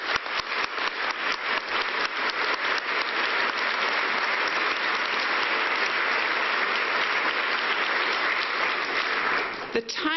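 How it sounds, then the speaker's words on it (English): A round of applause from a conference audience at a public power industry general session, starting with distinct claps and swelling into a steady, full wash of clapping that stops abruptly at the end. "I'd like to have a round of applause"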